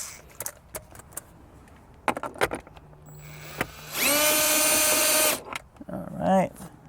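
Power tool removing a 10mm bolt from dash trim in a 2016-2021 Toyota Land Cruiser, a loud whirring burst of about a second and a half after scattered clicks and handling noises, followed by a brief voice.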